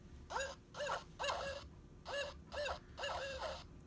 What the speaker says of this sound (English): the barred owl.